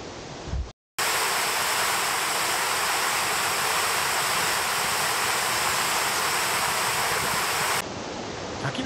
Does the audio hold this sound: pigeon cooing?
no